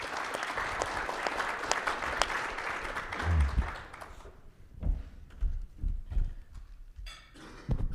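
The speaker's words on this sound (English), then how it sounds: "So let's join me in a round of applause for our panel" Audience applause at a summit plenary session for a panel, a dense patter of clapping that thins out after about four seconds into scattered claps and thumps with low rumbles.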